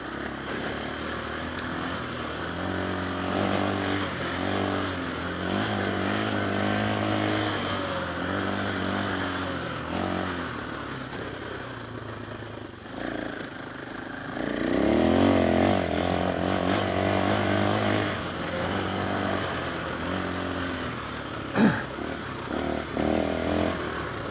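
A KTM 500 EXC-F dirt bike climbs a sandy uphill at El Mirage OHV, its engine a steady, close droning roar that swells louder as the rider pushes up the slope, with a brief sharp spike near the end.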